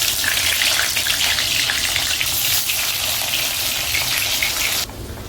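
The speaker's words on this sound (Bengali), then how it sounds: "তেলটা গরম হয়ে গেছে, এবার পনিরগুলো একটু ভেজে নেব।" Paneer pieces sizzling in hot oil, a dense, steady crackle and hiss that runs loud and close for most of the clip, then drops abruptly to a quieter simmer near the end.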